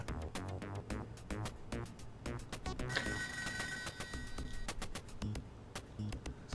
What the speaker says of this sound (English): There's a phone somewhere.